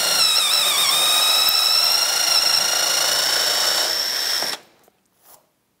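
A Forstner bit boring an angled hole gives a loud, steady power-drill whine with a bright ringing tone that holds for about four and a half seconds, then cuts off abruptly, leaving near silence.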